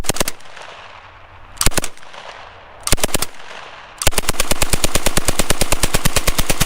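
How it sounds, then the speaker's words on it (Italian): Bursts of Sten submachine gun fire: two short volleys of rapid shots, a pause, then a longer sustained burst of steady automatic fire, loud and close. "Hanno sparato con i mitra Sten a Mussolini e Petacci a distanza"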